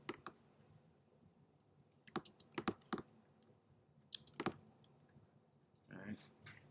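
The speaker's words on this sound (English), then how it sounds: "I'm going to double click it, then I'm going to start typing." Quiet, irregular clicks and taps on a computer keyboard come in bursts, with a short softer scuffle near the end.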